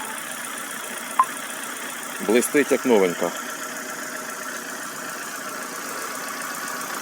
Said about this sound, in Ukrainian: машинка прогрівається